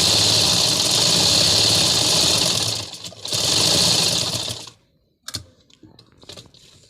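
Sewing machine stitching gathers into a frock's puff sleeve, a loud steady whir running for several seconds, a brief pause, another burst, then stopping with a few small clicks and handling sounds.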